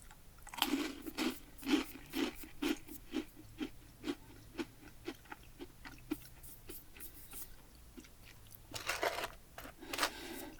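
Hard, cracker-like snacks from a MunchPak box, one kind coconut-flavoured, crunched up close in a quiet setting: a rhythmic run of sharp bites and chews about twice a second, a brief lull, then a louder burst of crunching at the end.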